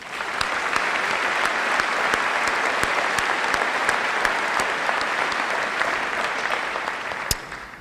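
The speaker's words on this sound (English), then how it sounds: "Let's give them a round of applause, please." Sustained audience applause fills a graduation ceremony hall at Chardon, honoring alumni who graduated fifty years earlier; dense, steady clapping from a large crowd with a few sharper claps standing out, holding level for the whole stretch before easing slightly.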